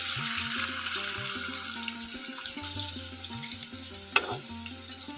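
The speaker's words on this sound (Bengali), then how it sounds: "এখন বেশ কিছুটা আলু এইভাবে দিয়ে দিচ্ছি।" Shredded potatoes sizzle and fry steadily in hot white oil in a wok for Bengali jhuri aloo bhaja, a continuous close bubbling hiss with faint clinks, and no talking.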